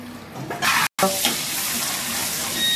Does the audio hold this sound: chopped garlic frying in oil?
yes